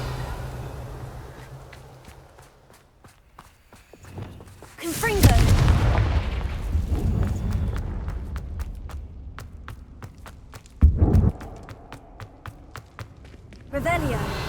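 Confringo blast spells in the video game Hogwarts Legacy erupt in several booming explosions spread out over time, set between footsteps and quieter stretches, with a voice speaking at times.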